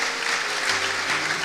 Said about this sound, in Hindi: जोरदार तालियां खुदा के फेवर के लिए।